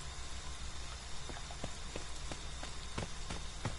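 Steady rain in the PS4 game Friday the 13th, a constant broadband hiss of falling water with scattered droplet ticks, loud and even throughout with no talking.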